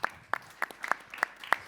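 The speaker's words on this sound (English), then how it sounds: "Round of applause" A small round of applause on a deep-tech conference stage, heard as a handful of sparse, separate handclaps at a loose, uneven pace, fairly quiet in an otherwise still room.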